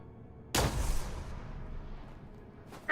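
A loud explosion from blowing up tanks in the Fallout video game bursts suddenly, followed by a long rumbling decay, then a second sharp blast starts at the end; no voices are heard.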